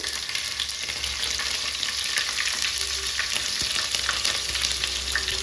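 Mustard seeds, cumin and green chillies fry in hot oil for a home dal khichdi, giving a steady, dense sizzle with crackling pops throughout and nothing else heard.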